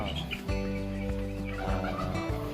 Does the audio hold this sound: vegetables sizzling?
no